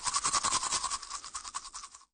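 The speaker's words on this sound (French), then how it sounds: "Elle se regarde dans le miroir, tire la langue et se lave les dents." A child brushes her teeth in front of a bathroom mirror with a toothbrush, a quick, steady scrubbing rasp of rhythmic strokes that fades out after about two seconds.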